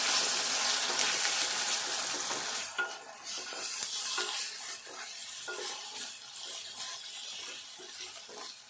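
Ginger-garlic paste frying with onion and green chili in a pan for a taro root curry, a steady close sizzle with stirring scrapes and clinks throughout, no voices.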